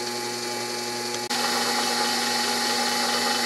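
A slow-speed DC motor drill running at about 500 RPM drones steadily, a continuous low hum with a brief dip partway through, no voices over it.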